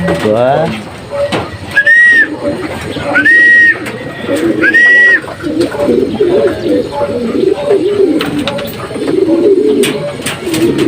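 A racing pigeon arrives at the loft amid pigeons cooing nearby, three rising whistle-like calls in the first half over steady background rustle, with people talking in the clip.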